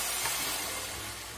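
Cooking wine sprayed into a blazing-hot wok of clams gives a steady, loud sizzling hiss that fills the whole moment without a break.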